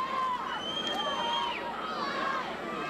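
A fairly full stadium crowd at a football game on a cold, windy Saturday afternoon in St. Louis, heard as a steady, distant wash of murmuring and scattered shouts with occasional whistles.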